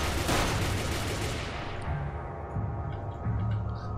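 Gunfire in the Minecraft video game during a police standoff at a base: a loud burst of rapid shots at the start, then lower rumbling rounds fading under continued game noise.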